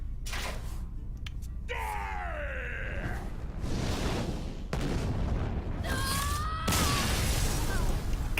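Explosion animation in the card game Hearthstone: several booming blasts and crashes with bursts of rumble, a dramatic rising-falling voiced cry twice, and a voice reacting in between.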